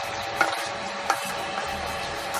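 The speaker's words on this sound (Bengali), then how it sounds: "ভালোভাবে নেড়েচেড়ে নিলে এটা আমার হয়ে আসবে।" Cooked pasta is stirred in a pan with a soft continuous sizzle and a couple of sharper scraping knocks from the utensil, close and fairly loud, with no talking.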